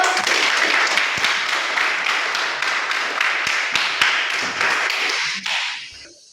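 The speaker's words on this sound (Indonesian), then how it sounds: "tepuk tangan untuk dia dulu" A group claps together in dense, lively applause for several seconds before it tapers off and stops.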